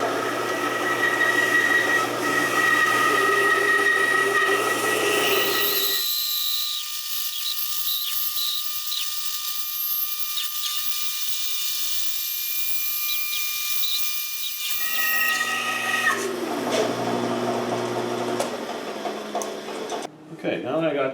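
A power saw whines steadily and loudly as it cuts out a wooden leg for an Arts & Crafts settee. The low drone drops away for several seconds midway, then returns before the motor cuts off.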